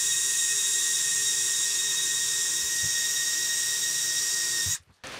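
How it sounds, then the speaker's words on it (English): A drill boring a hole up into a steel beam gives a steady high-pitched whining hiss with faint knocks, cutting off abruptly near the end. "I have to drill a hole up into that metal steel beam"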